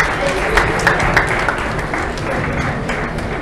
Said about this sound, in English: Can you have a round of applause, please?